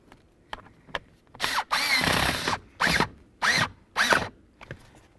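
A power drill drives a blower motor mounting bolt on a 2008 Ford Explorer in several short whirring bursts with brief pauses between, the final pulls rising in pitch as the bolt snugs down, close and fairly quiet, with no talk.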